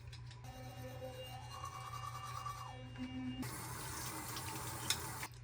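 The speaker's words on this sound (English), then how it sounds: "I'm gonna brush my teeth." A bathroom sink tap runs steadily at close range during teeth brushing, a continuous watery hiss that grows louder and brighter partway through, with faint clinks near the end.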